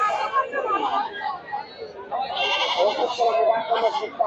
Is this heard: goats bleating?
yes